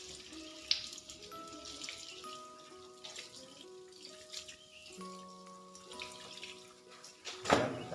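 Clothes rinsed by hand in soapy water while washing out dog saliva, with faint steady running and splashing water, soft sloshes, and a sharper splash near the end; no talking.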